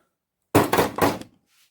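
An old metal angle bracket is banged in a quick cluster of about three dull, heavy thunks, close and fairly loud, followed by a faint brief scrape.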